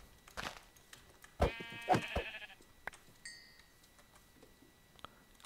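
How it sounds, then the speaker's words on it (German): Sheep bleat in the Minecraft video game, two loud wavering bleats close together followed by a short quieter tone and light clicks, with no talk over them. "Oh, Schafe!"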